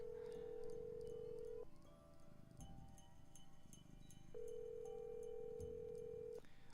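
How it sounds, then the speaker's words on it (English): A telephone rings in two long, steady electronic tones separated by a pause, faint and alone in a quiet room with soft background noise. "his phone will never stop ringing"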